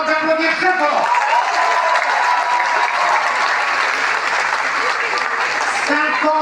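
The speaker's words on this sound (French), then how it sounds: "je vous demande d'applaudir très fort." Audience at a graduation ceremony at ESCAE in Morocco bursts into loud, sustained applause, dense clapping filling the hall steadily from start to finish.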